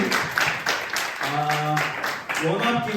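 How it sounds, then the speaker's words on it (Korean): A youth sermon audience claps on request, a dense burst of applause heard under and between loud speech and music-like tones. "박수 한번 주시죠"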